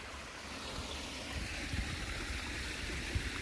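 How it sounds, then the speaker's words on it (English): A waterfall in a birding area pours in a steady, broadband rush on a cool morning, continuous and fairly close with no voices. "here's the waterfall"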